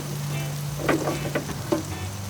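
Tofu and vegetables frying in olive oil in a pan, a steady close sizzle with a low hum behind it and a few brief bursts of spatter or stirring.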